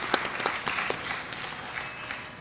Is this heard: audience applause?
yes